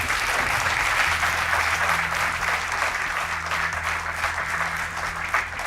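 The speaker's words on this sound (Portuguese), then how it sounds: "Acabou o tempo, um aplauso para eles." A game show studio audience applauds the contestants, sustaining thick, even clapping for several seconds while a low musical tone drones beneath.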